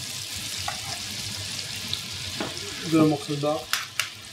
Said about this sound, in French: on fait un beurre mousseux, on dépose notre poisson qui est cru